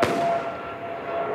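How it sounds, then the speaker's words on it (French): A detonating bird-scaring rocket fired at an airport runway bursts with a single loud, sharp bang that rolls into a long, roaring tail of echo across open ground. "ça, c'est une fusée détonnante."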